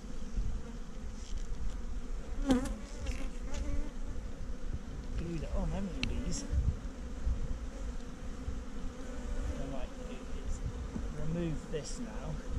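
Iberian honey bees hum in a continuous, close buzz at an open hive, with brief louder passes and small knocks of handling over the steady drone.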